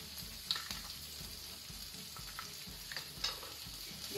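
Ginger and garlic frying in ghee over medium flame, a steady close hiss and crackle with a couple of faint spoon taps, fairly quiet and without any speech.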